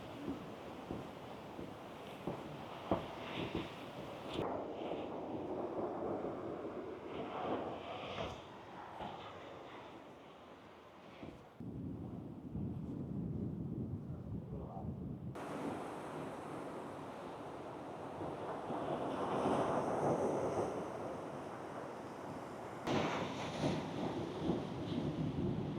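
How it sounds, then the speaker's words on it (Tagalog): Strong Mediterranean Sea waves break on the shore at Tangier, a broad roaring wash rising and falling in surges, close and loud with heavy wind buffeting across the microphone. "Ang lalakas ng waves."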